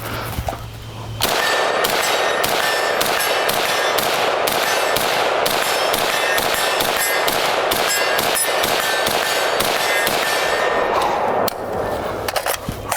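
Rapid, fast-paced gunfire from a Sig MCX Spear rifle, sharp, loud and close, a long string of shots with metallic ring lasting around ten seconds.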